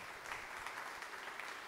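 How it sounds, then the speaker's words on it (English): An audience at a ceremony applauds steadily, a dense wash of clapping that holds even throughout, with no voices over it. "give our host today a round of applause."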